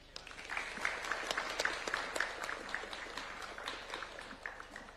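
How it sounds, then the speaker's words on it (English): At a reception for the UEFA Champions League trophy in Kenya, an audience applauds: steady scattered clapping with sharp individual claps, moderately distant and fairly quiet, with no one talking over it. "Another round of applause for Mr. Kuria Mushiri."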